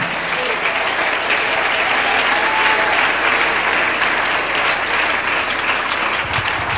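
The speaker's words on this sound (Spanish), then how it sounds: "Dele un aplauso al Rey." A church congregation applauds during a Spanish-language sermon, sustained loud clapping from a crowd with faint voices mixed in, steady throughout.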